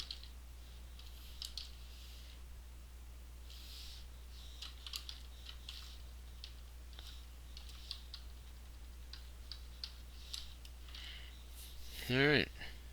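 Quiet tapping on a computer keyboard while writing code, a faint scattered patter of keystrokes over a steady low hum, ending in a brief louder sound.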